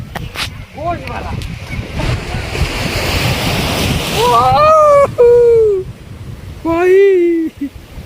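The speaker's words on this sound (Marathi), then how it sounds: "एवढ्या इथपर्यंत वरती लाटा आहेत" Sea waves surging and crashing at Kasheli Beach on the Konkan coast, a rushing roar of surf with wind buffeting the microphone, while excited voices talk and exclaim over it.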